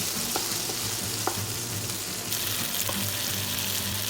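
Beef salpicao being stirred in a hot pan, a steady close sizzle of frying with occasional scrapes and taps of the utensil against the pan.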